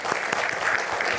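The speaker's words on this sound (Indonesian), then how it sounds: "Ya, boleh tepuk tangan." A brief burst of dense clapping from an audience, steady and lively.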